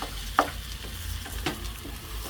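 Rice cooking with spices in a pot for bhuna khichuri, the spatula stirring and scraping in a few separate strokes over a steady low sizzle, near and with no talk.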